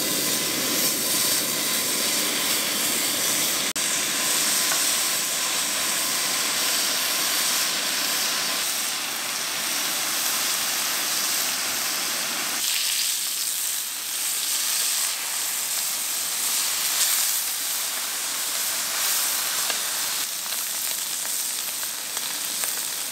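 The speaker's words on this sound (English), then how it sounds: "check out this fry pan. Let's cook our bacon." Bacon sizzling in a fry pan, a loud continuous close hiss and crackle of spitting fat that stays steady throughout, no voices.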